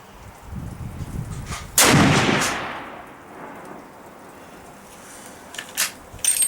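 A single loud 7mm PRC rifle shot is fired at a target outdoors, with a sharp crack followed by a long rolling echo, and faint clicks afterward.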